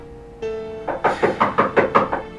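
Knocking on a door in a home, a series of about seven firm, evenly spaced knocks, close and loud, over a sustained musical tone in the background.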